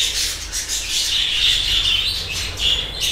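Pet birds chirp and squawk eagerly while homemade bird food is served. Their bright calls overlap and continue steadily, close by, with light rustling. There is no talk.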